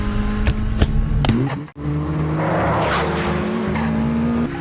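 Toyota AE86 in a street race, engine droning loud and close with rising pitch while tires squeal and skid through corners, a brief dropout midway before the racing roar resumes.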